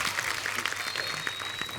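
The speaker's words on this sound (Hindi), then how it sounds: "आइए प्लीज जोरदार तालियां सुखबीर पाजी और बादशाह पाजी के लिए" A studio audience on the Kapil Sharma Show applauds for Sukhbir and Badshah, a brief, loud, continuous wash of crowd clapping.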